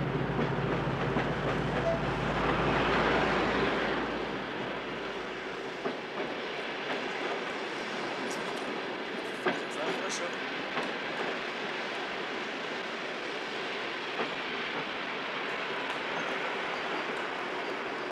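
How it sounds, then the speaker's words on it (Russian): A passenger train pulls in beside a station platform, with a rumbling approach and a hiss that fade into steady wheel clatter and rattling carriages. It sounds moderately distant and continuous, with faint background activity. "прибывает на первый путь. Стоянка поезда 5 минут."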